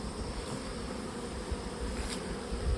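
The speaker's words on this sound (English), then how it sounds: "Got plenty of bees coming in." Honey bees buzzing as they fly into their hives in a bee yard, a steady close hum of many insects with faint background noise and no talk.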